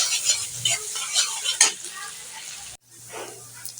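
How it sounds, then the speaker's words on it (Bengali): Onion and garlic sizzle and hiss in hot mustard oil in a pan, with stirring scrapes over the steady frying. After an abrupt cut, a softer sizzle continues. "পেঁয়াজ রসুনটাকে হালকা ভেজে নেব"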